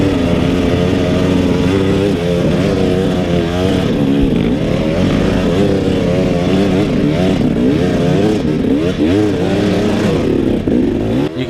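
A 2018 KTM 300 dirt bike climbs a steep mountain hill during a hare scramble, its two-stroke engine loud and close, revving and surging continuously as the rear wheel fights for grip.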